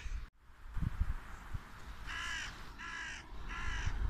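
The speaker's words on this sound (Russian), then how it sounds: "Не каркай тут." A crow caws outdoors, three harsh, evenly spaced calls at moderate distance, preceded by a few dull knocks and thumps against faint background noise, with no voices.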